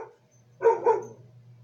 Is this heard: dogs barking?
yes